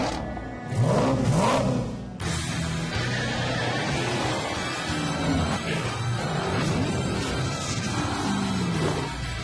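A powerful Hemi car engine revs up loudly, rising and roaring with a sharp burst, then holds a rumbling, throaty drone.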